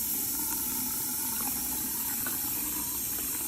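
A household faucet in Mississippi spits out dirty, muddy water, a steady close gushing and sputtering stream with a few gurgling bursts throughout.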